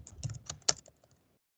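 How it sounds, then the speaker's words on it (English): Brief burst of typing on a computer keyboard, a quick run of close, crisp key clicks with one sharper tap before it trails off into silence. "I'll just start typing it."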